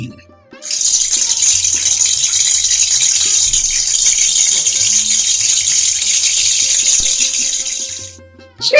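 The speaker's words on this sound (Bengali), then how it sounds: "এবার দেখো পেঁয়াজগুলোকে কিরকম কায়দা করে তেলে ছাড়ছি" Onions dropped into hot oil set off a sudden loud hiss that stays fierce and steady for several seconds, then cuts off sharply near the end.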